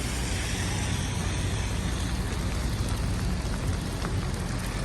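Steady heavy rain on a downtown city street along King Street West in Toronto, a continuous broadband hiss with dense patter that stays loud and even throughout, with no talking.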